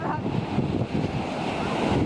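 Ocean surf washing onto the shore at the end of a coastal trail hike, a steady broadband roar with wind buffeting the microphone and no clear breaks.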